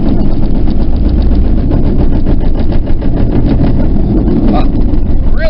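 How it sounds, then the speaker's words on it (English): A car with an unidentified fault runs steadily up close, a loud rough engine with a rapid pulsing rattle throughout and a brief squeal near the end. "I really don't know what's going on with my car. It makes just kind of hellish noise."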